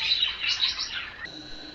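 Cage birds at the Mirpur bird market in Dhaka, where cockatiels are sold, chirp and tweet in a bright, overlapping chatter of high calls, steady for a moment before settling into a thinner, quieter trill.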